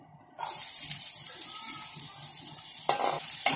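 Onions sliced thick for biryani beresta fry in a pan with a bright, steady sizzle and crackle, close and continuous, with a couple of louder bursts near the end.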